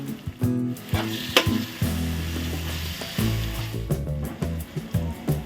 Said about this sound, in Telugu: అల్లం వెల్లిపాయ కూడా పచ్చివాసన పోయేదాకా వేయించుకుందాము